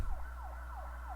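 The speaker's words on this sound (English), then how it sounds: "Then we hear the cop sirens." Police car sirens wail in a horror film, a rising-and-falling electronic tone repeating about four times in quick succession, steady and fairly loud over a low rumble.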